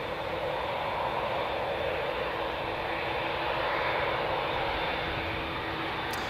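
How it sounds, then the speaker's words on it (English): Ryanair airliner landing at Newcastle International Airport, a steady loud broadband jet roar that holds evenly throughout without letting up, heard from fairly close with no voices. "we've just had that Ryanair land from Poland"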